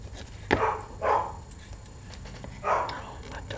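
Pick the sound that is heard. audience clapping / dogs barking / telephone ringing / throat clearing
dogs barking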